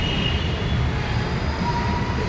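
Continuous rumble and rattle of a local train close by at Sitabuldi station in Nagpur, a steady dense roar with a faint high whine over it.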